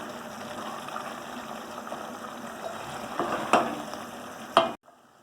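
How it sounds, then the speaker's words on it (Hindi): Minced meat keema with green chillies fries in a pan, a steady close sizzle with stirring scrapes growing louder toward the end, followed by a sharp clatter and then sudden silence; nobody speaks. "उसके बाद फिर हरी मिर्च डालकर भूनेंगे।"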